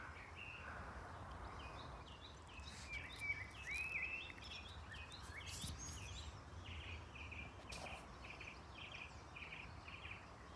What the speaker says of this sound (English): There's so many different bird calls.